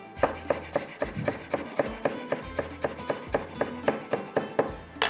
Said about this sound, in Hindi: थोड़ा सा हरा धनिया चॉप कर लेते हैं